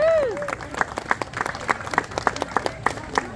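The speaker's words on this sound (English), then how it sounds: "A big round of applause for all that." Outdoor community Unity Day crowd clapping for event organizers, a steady scatter of individual claps over a murmur, with a voice trailing off at the very start.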